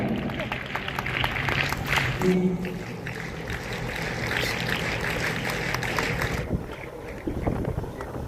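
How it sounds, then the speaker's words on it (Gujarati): A crowd claps in a dense, sustained burst of applause at a women's self-defence training closing ceremony, continuing steadily, with a brief voice near the start and a thinning toward the end. "આપણે તાળીઓથી વધાવીએ"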